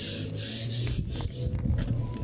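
Hand sanding across the lacquer of a car fender being repaired for rust with fibreglass filler, a series of close, raspy rubbing strokes in quick succession, growing more uneven toward the end.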